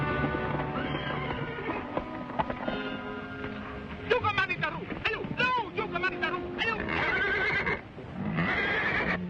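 A horse offered as a gift neighs and whinnies in an old 1936 adventure serial scene, with hoof clip-clops and people talking around it, the whinny rising clearly mid-clip amid the dialogue.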